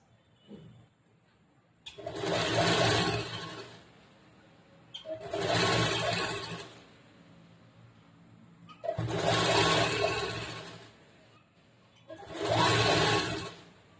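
A sewing machine stitching blouse fabric runs in four separate bursts of steady whirring, each a couple of seconds long, with quiet pauses between them and no talk.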